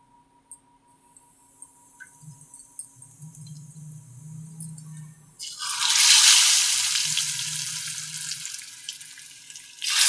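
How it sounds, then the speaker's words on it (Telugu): Eggs dropped into hot oil with turmeric in a pot burst into a loud, steady sizzle about halfway through, after quiet clinks and a low hum. "ఇందులో కొద్దిగా పసుపు వేసి కోడిగుడ్లు వేపుకుందాము"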